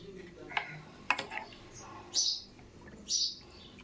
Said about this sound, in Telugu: మా ఇంట్లో పిచ్చుకలు అరుస్తూనే ఉంటాయండి